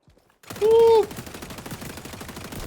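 Rapid automatic gunfire in the XDefiant shooter: a tight burst of shots in quick succession, close and loud, with a whistling tone over the first volley.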